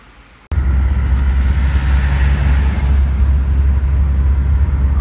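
Cars pass along a city street in Adana, a loud continuous roar of traffic that starts abruptly after a short quiet moment and then holds steady.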